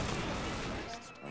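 Gunfire in Counter-Strike 1.6 during a one-on-one match, a dense, loud burst of rapid shots that fills the short moment and then trails off.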